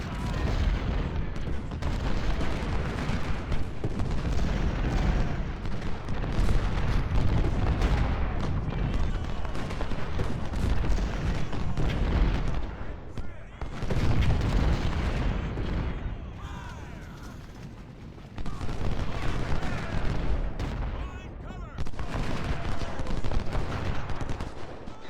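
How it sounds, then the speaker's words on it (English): Cannon fire and gunboat artillery from a Civil War battle at Shiloh in a strategy video game, a dense, continuous roar of booming shots and crackling gunfire with brief lulls. "we have artillery firing down, and we have friendly artillery from those gunboats up north firing on him"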